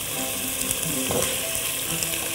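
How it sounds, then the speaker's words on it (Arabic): Shrimp sautéing with onion and green vegetables in a pan give a loud, continuous sizzle and frying hiss, with a brief stirring scrape in the middle and no talking. "بشوح كله مع بعض الخضرة الجميلة"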